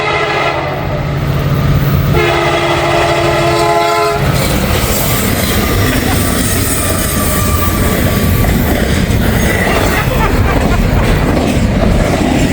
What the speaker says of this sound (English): We got another train coming.